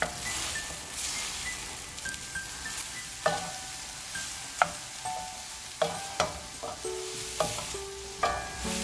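Eggs and vegetables sizzle steadily in olive oil in a pan over medium heat while a utensil stirs and scrapes, giving repeated sharp clicks and taps over a continuous frying hiss.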